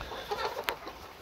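Caged laying hens in a poultry house cluck in a busy, overlapping chorus of short calls, with a sharp clack partway through and a low mechanical background.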